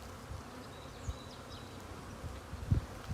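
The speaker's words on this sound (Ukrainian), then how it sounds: "працюють, літають бджоли" Soft, steady buzzing of honeybees in flight outdoors, a low hum with occasional louder passes close by, no voices.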